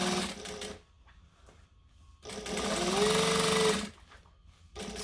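A sewing machine stitches a jacket hood seam in two or three close, rapid mechanical whirring bursts, with quiet pauses between runs.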